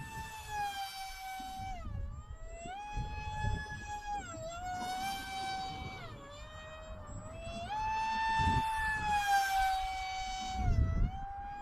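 An FT Goblin RC plane with a 2700 kV motor on 4S flies overhead, its propeller giving a steady high whine that wavers in pitch as it banks and passes, moderately distant, with wind rumble beneath.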